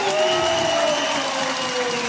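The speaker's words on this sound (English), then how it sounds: "biggest cheer of the day for Struan" An ice hockey arena crowd cheers and applauds for player Struan Tonnar at his testimonial, a steady loud wash of noise with voices and tonal horn-like sounds over it.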